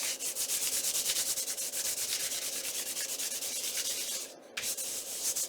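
Steady continuous rubbing as paper is pressed down by hand onto a glued, recycled padded envelope for a junk journal cover, a dry sanding-like scrub running throughout with a brief pause near the end.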